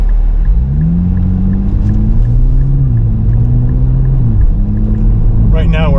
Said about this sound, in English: Got a nice exhaust noise coming out the back, no problem there.